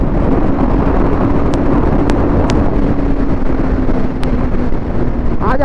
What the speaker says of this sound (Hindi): हवा भी बहुत तेज चल रहा है